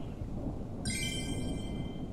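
Video game thunderstorm at an airport in Airport Renovator: a steady low rumble of thunder and rain, with a bright tonal shimmer entering partway through, no talking.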